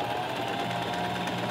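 A sewing machine stitches fabric guided along a magnetic seam guide, its rapid, even mechanical whirr running steadily and close throughout.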